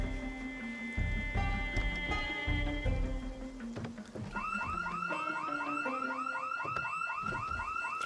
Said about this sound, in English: There are still alarms.